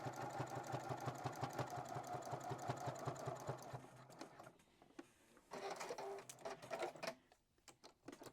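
A sewing machine stitching quilt binding runs in a fast, steady, close mechanical whir for about four seconds, pauses briefly, then makes a shorter second burst of stitching.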